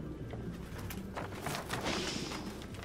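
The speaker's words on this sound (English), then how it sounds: "them birds scared the mess out of me" Pigeons cooing and fluttering in Detroit: Become Human, a steady close burst of flapping wings and soft coos filling the whole moment with no talk.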